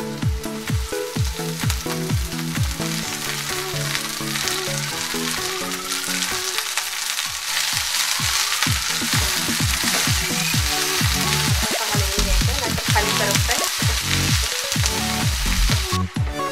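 Safflower greens (kardai bhaji) drop into hot oil with garlic over a lowered gas flame, giving a steady, dense sizzle and crackle that stays close and loud throughout, with no talking.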